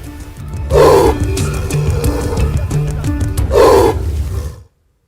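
A tiger roars loudly and close, two deep, powerful bursts of roaring with rumbling growls between them, then the sound cuts off abruptly.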